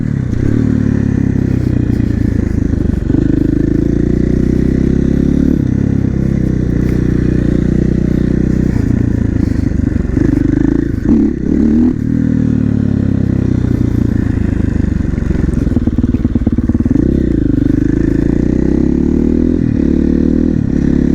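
Supermoto motorcycle being ridden, a loud, deep engine drone heard from on board with throttle rises and falls and gear changes, wind and rattling underneath, continuous throughout with no speech.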